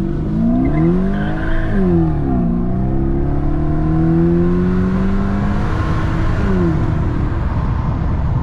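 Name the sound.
BMW E65 745i burnout, revving engine and tire squeal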